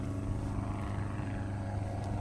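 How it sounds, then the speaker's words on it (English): A plane drones steadily overhead above African wilderness, a continuous low engine hum with no rise or fall across the short stretch and no voices. "And then I heard this plane."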